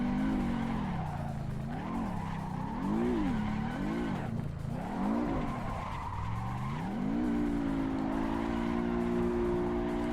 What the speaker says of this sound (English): I'll do burnouts.